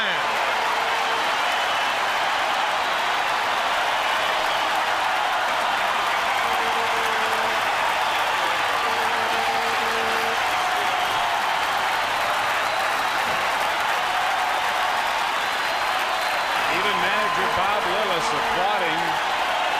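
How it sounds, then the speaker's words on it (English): A baseball stadium crowd applauds Nolan Ryan's 4,000th strikeout, a steady, distant roar of clapping and cheering that holds at an even level the whole time, with a few faint tones near the end. "Applauding"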